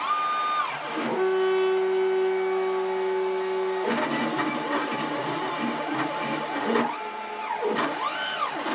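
A homemade CNC router cuts circle pockets, its stepper motors whining in sustained tones and sweeping pitches as the toolpath changes, moderately loud with no talking.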